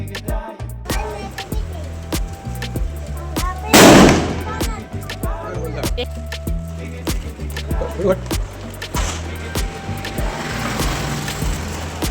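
A loud, sharp sutli bomb firecracker blast rings out near the middle during Chhoti Diwali, set among steady background noise and chatter.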